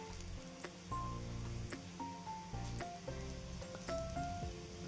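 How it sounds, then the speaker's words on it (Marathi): Aloo paratha roasting crisp on a pan, a low steady sizzle under faint background music, quiet and continuous with no talk. "छान भाजून घ्यायचा खरपूस"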